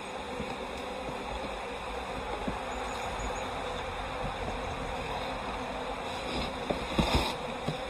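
Honeybees in a subarctic colony droning steadily during a hive check, a close and continuous buzz with a faint rustle and a few soft knocks near the end.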